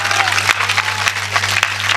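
A crowd at a Hindi comic poetry recital in Bisalpur claps hands raised overhead in loud, dense applause over a steady electrical hum, with the host's voice carrying on under it.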